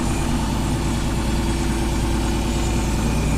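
A John Deere 4230 tractor engine idles steadily, a constant close low rumble with even loudness throughout and no voices.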